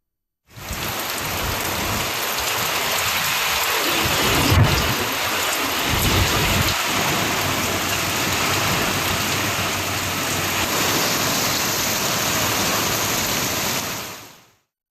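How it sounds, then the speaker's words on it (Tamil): Heavy summer rain pours steadily at night with strong wind, a loud continuous roar broken by sharp thunder cracks around the middle, no voices. "இடி மின்னல் மற்றும் பலத்த காற்றுடன் கூடிய கோடை மழை பெய்தது"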